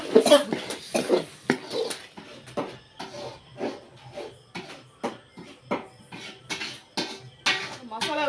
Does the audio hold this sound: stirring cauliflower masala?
yes